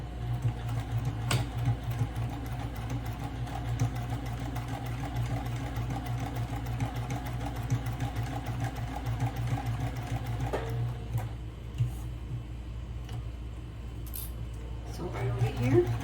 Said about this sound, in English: And now I'm going to start to sew the other side.